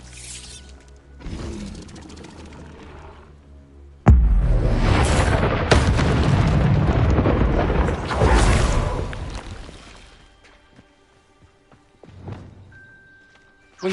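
Bombarda spell blast in Hogwarts Legacy hitting with a sudden loud boom, followed by several seconds of roaring rumble and debris that fade into quiet, with a smaller thud near the end.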